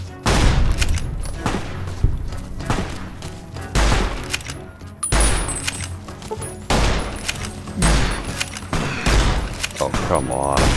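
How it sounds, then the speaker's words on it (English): Rapid gunfire from a .357 in a wasteland video game, loud repeated booming shots and thuds in dense bursts, with a voice talking over parts of the action. "I'm shooting you with a 357"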